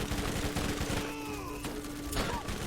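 Submachine gun fire in Borderlands Remastered multiplayer, a rapid, continuous rattle of shots close up, with faint game effects underneath.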